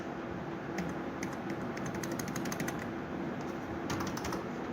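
Fingers type a survey number on a computer keyboard, a series of crisp, close key clicks in irregular quick bursts over a steady background hum, with no talking.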